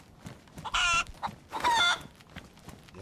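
Chicken in the DayZ video game: two loud, harsh squawking bursts in quick succession, close by, with faint background rustle and no talk.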